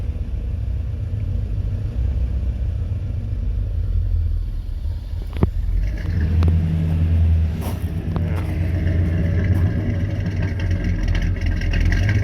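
A car engine fitted with Holley Sniper fuel injection idles roughly and loudly at close range, its rumble rising and falling with a few sharp knocks or pops along the way.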